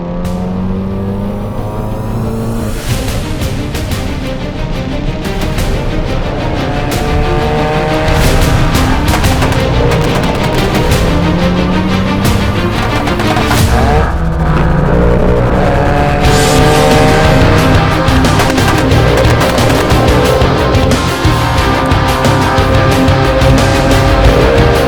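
A roughly 600-horsepower Audi TT on an MQB build roars under hard full-throttle acceleration, engine revving loud and close through rising gear pulls with sharp shifts, sustained and dense for the whole stretch with no talk.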